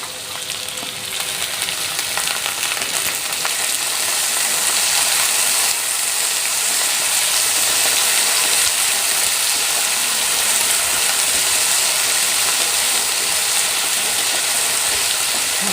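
Garlic frying steadily in hot oil with cumin, mustard seeds and fenugreek for a pirandai (adamant creeper) relish: a dense, continuous hiss and crackle, close and even throughout, with no voices.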